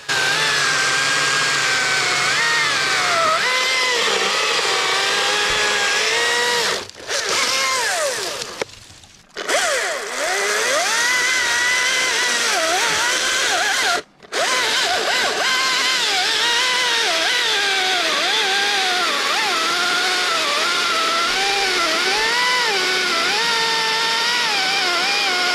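A battery chainsaw cuts through tree limbs during a pruning and cleanup job, its motor whining steadily and rising and falling in pitch under load, close and loud, with two brief pauses before resuming.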